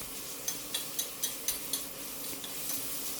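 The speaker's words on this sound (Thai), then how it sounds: "พอเราผัดมันจนเหลืองหอมดีก็ใส่หมูบดลงไปได้เลยครับผัดจนหมูบดเริ่มสุกครับ" Minced pork with chilli and garlic being stir-fried in a pan: a quiet sizzle under a regular series of light ticking scrapes from the spatula, about two per second, with no talking.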